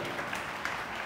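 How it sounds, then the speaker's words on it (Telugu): A crowd at a devotional class claps together for about a second, a dense, even burst of applause. "అందరూ చప్పట్లు గట్టి కొట్టాలి"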